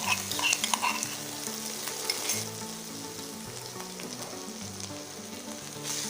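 Garlic ginger paste sizzles and spatters in a hot pan for a fish curry, a steady bright frying hiss with a few stirring scrapes early on, no talking.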